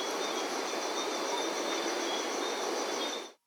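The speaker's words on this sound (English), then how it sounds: "This is the crickets and frogs" A crickets and frogs ambience sample gives a steady, dense hiss of night-time chirring with faint high tonal trills. It holds evenly throughout and then fades out quickly at the end.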